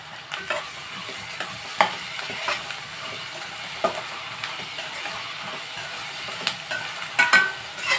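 Onions frying with salt in a pan give a steady, fairly soft sizzle, broken by scraping stir strokes and occasional sharper clinks near the end. No one speaks.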